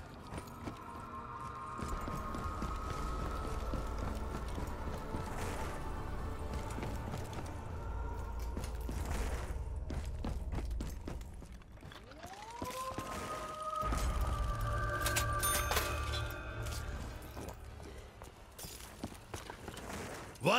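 Hellhounds in Black Ops 3 Zombies on the Kino der Untoten map, a steady pattering rush of running paws under loud game audio with rising siren-like tones and effects.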